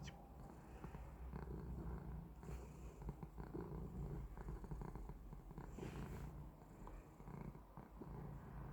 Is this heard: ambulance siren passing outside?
no